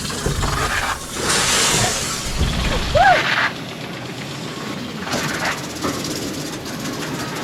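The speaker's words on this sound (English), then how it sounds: "I'm going to turn them on and we're going to check if they need to be raised or lowered" Garden sprinklers switched on outdoors at a ruin under renovation in Portugal, spraying water with a steady broad hiss that swells and fades in bursts, alongside a brief bird-like chirp and faint background noise.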